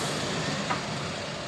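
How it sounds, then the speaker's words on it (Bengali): A double-decker bus on a busy city street gives a steady, broad engine and traffic rumble at moderate level, with no clear peaks and no voices. "এগুলো হচ্ছে এখানকার ফেমাস ডাবল ডেকার বাস।"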